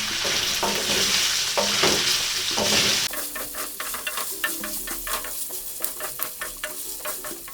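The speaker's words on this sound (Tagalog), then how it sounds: "Mag-ingat lang po tayo dahil tumatalsik po yung kanyang mantika" Pork sizzles and spatters as it renders in its own fat for the Visayan dish ginamay, a dense hiss in the first half giving way to a stream of sharp, irregular crackles and pops up close, with no talking.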